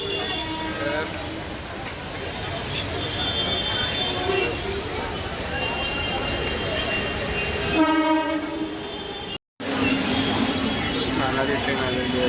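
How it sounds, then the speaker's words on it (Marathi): A passenger train pulls into a busy commuter station with a sustained horn blast and rumbling carriages, the station's background bustle continuous throughout and voices talking over it. "ट्रेन आलेली आहे"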